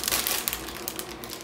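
A small plastic packet crinkling and rustling as it is opened, with close, busy crackles that last the whole moment.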